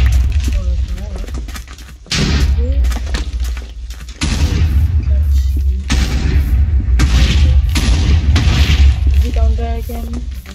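Wither explosions in Minecraft, heavy booming blasts that swell into sustained loud rumbling with sharp onsets around the second and fourth seconds, continuing densely with crackling debris.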